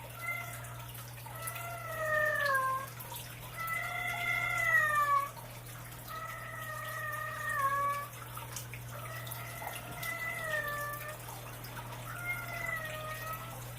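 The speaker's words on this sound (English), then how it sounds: "You probably hear my cat." A pet cat meows repeatedly in drawn-out, rising and falling calls, about six in a row with short gaps, fairly close and clear over a steady low hum and faint running water.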